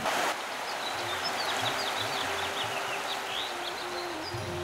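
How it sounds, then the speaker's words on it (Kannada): Small birds chirp and call intermittently in a forest, thin high notes scattered over a soft steady background of flowing water, all fairly faint and distant. "ಜೊತೆಗೆ ವಿವಿಧ ಪಕ್ಷಿಗಳ ಚಿಲಿಪಿಲಿ."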